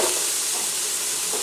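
Chopped onion sizzles steadily in a hot pot for marinara sauce, a dense continuous frying hiss with faint crackles, close and fairly loud with no talking.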